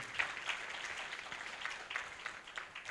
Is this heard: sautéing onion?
no